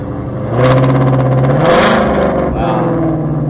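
A Ford Shelby GT500 engine revs hard, rising to a loud roaring peak around the middle and then settling into a throaty idle-like rumble, close and prominent throughout.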